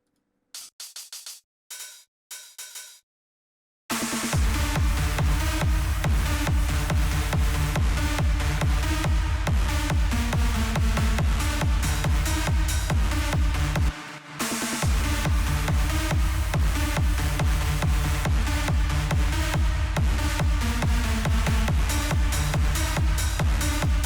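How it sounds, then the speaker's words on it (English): A big room techno track plays loudly and continuously, driven by a crisp offbeat hi-hat over a thumping kick, after a few seconds of choppy starts and a brief dropout midway. "Let's get the classic offbeat hat in right now."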